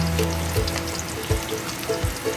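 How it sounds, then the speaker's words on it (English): Ten half-sliced garlic cloves sizzle steadily in rendered bacon fat in a pan, a close, continuous frying hiss with soft periodic thumps from stirring. "fried in the bacon oil, the bacon fat"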